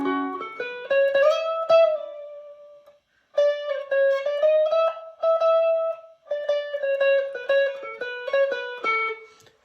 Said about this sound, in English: And then he's going to immediately do a triple pull off to the 15.